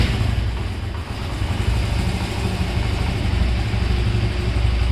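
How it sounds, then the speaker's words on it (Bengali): A Honda CD80 motorcycle engine idles with a steady, low, even putter that stays close and constant throughout, with no voices. "প্রিয় ভিউয়ার্স বাইকটি স্টার্ট দেওয়া হচ্ছে"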